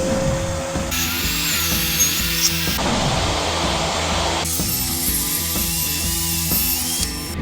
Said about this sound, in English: do not need a SawStop table saw to keep your fingers and be safe at the table saw